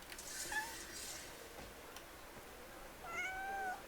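A longleaf forest cat in the video game Crimson Desert gives two soft meows, a short one near the start and a longer rising one near the end, faint over quiet game ambience.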